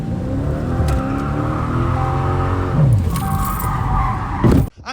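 A Dodge Charger 392 Scat Pack slides hard, its loud engine roaring and revving in rising and falling sweeps, with tire noise and a brief scrape near the end before it cuts off.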